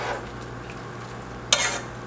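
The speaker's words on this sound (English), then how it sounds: "Just stir." Seasoned corned beef and cabbage are stirred in a pot under a low, steady hum, with a single sharp scrape of the spoon near the end.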